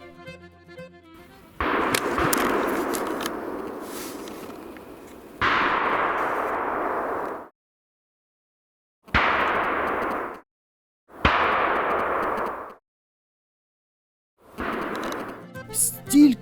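Bursts of rapid gunfire from a driven hunt for roe and red deer crackle in several separate volleys, each lasting a second or two, with short silences between them, loud and somewhat distant.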